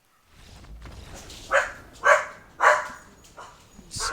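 A pet dog barks at rivals outside, a quiet start followed by three loud, evenly spaced barks, a softer yip, then another bark, close to the listener.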